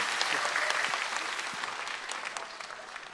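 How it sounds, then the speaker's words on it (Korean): Audience applause at a church sermon, a dense steady patter of many hands clapping that slowly fades over a few seconds, no talking. "박수 한번 부탁드립니다."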